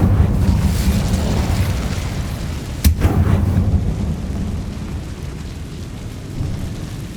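Incendio fire spell from Hogwarts Legacy, a single sharp crackling burst of flame over a low rumbling game ambience, fading into steady background hum.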